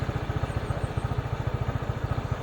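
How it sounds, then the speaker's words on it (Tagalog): A Honda ADV motor scooter engine idles close by, a steady rapid low putter with an even pulsing rhythm and no voices over it. "ito yung motor niya, Honda ADV"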